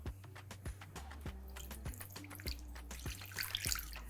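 Water poured into a well in flour for panettone dough with chocolate chips, meant to hydrate dry yeast. Close, trickling and dripping, with light clinks over a low steady hum, no talking.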